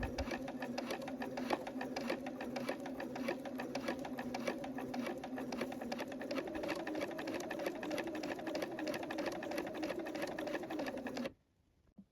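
A sewing machine runs a continuous topstitch along the tunnel of a dress at a 3.5 stitch length, a steady rapid needle patter and motor whir up close, then stopping abruptly near the end.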